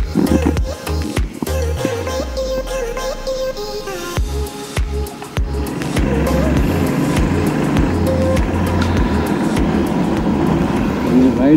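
A motorcycle rides along a forested highway in Kerala, ridden without a clutch cable. The engine drones steadily under loud wind rush, with shifting low tones early and a voice speaking briefly over it.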